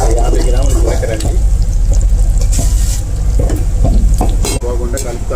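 Cumin seeds fry in hot oil for pulihora, alongside dried red chillies, giving a loud, steady sizzle with scraping stirring sounds, while someone talks over the cooking.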